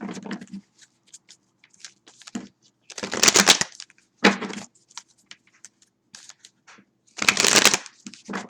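Tarot cards being shuffled in bursts of riffling and sliding, with two louder riffles and softer handling noises between, close to the microphone and without talk.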